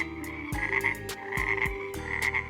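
Several deep frog croaks sound in quick succession at a lily-pad bog, each a loud low burst with a higher bright ring, recurring roughly every half second to second over a steady background.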